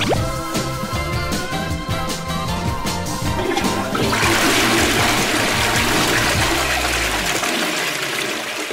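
A toilet flush sound effect, a loud close rush of water that swells into a broad hiss midway and then drains away toward the end, playing over a music background.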